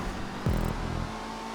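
A race car engine in the GTA 5 video game runs at full throttle, making a steady droning hum with a brief swooping pitch shift partway through. It holds at moderate loudness and stays alone, with no talk.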